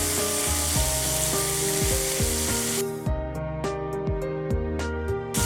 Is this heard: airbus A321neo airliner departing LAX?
no